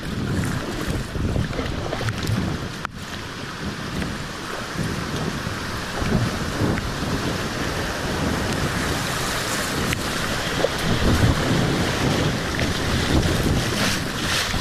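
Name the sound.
rough flood water on Haw River while kayaking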